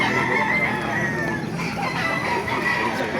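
A rooster crows amid the clucking and murmur of many chickens, with a busy market hubbub in the background, at a chicken market in Baliuag.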